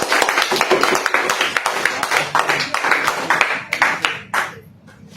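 A group claps together in a classroom, close and loud, with quick uneven hand claps that may include slaps on tables, thinning out and stopping near the end.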